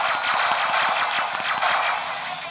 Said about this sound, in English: I like the little explosion effects.